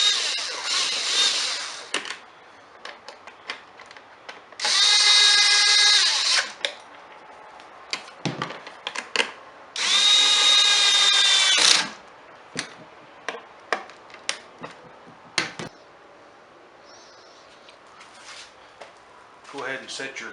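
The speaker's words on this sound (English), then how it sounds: "bolts torqued down." A power tool bursts in about three loud whirring runs of roughly one to two seconds each, torquing down bolts on a STIHL BR430 backpack blower during a teardown, separated by clicks, clatter and handling noise.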